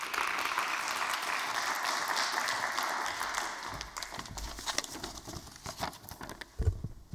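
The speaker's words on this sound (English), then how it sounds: "Thank you very much for the kind welcome, for the warm applause." Audience applause for a speaker at an ESMT Berlin evening event, a steady wash of clapping that carries on for several seconds before thinning out near the end.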